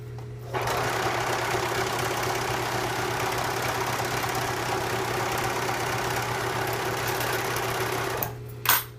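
Sewing machine stitching the yoke of a pant skirt, a steady continuous whir with an even mechanical hum, running alone for about eight seconds and then stopping abruptly.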